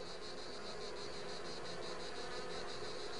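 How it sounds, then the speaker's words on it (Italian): Wasps fan their combs with a steady, continuous high buzz of many wings, even and unbroken throughout, fairly faint with no voices. "Le vespe sono costrette a ventilare i favi per evitare che le larve muoiano"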